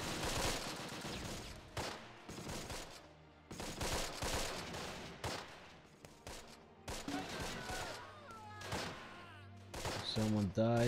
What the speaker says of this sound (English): Use your submachine guns, boys.